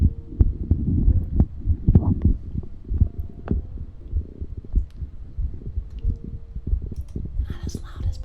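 A healthy-sounding heartbeat picked up close, its low, soft thumps repeating through most of the stretch under a faint hum, with light rustling near the end.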